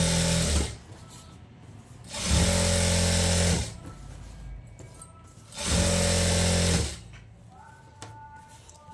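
Straight stitching on a blouse lining comes from a sewing machine in two long, loud, even runs with quiet pauses between them, heard close with no talk over the motor.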